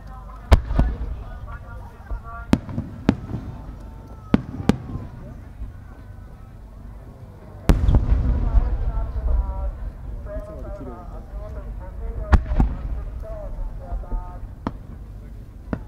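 Fireworks display at the 2018 Omagari fireworks festival in Japan, with shells from a Saiki fireworks company: sharp separate bangs spaced every second or two, a heavier burst cluster mid-way, and crackling rumble with crowd voices underneath.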